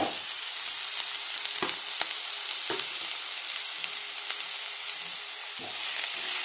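Onions and green chillies fry in hot oil with cumin seeds, a dense continuous sizzle close by, with a few sharp taps and scrapes of stirring.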